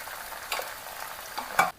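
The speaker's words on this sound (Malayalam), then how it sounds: "ഇനിയിപ്പം നമുക്ക് ഇതിനകത്തിലേക്ക് ഉപ്പ് നീര് ഒഴിച്ചു കൊടുക്കാവേ." Jackfruit chips frying in hot oil as salt water is poured in produce a soft continuous sizzle, broken by a few sharp hissing bursts and spatters toward the end.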